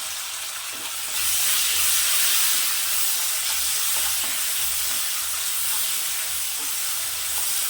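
Two tomatoes fry in hot oil for a Tamil dry fish curry, giving a loud, steady broadband sizzle that swells after a second and then holds evenly, close up with no talking.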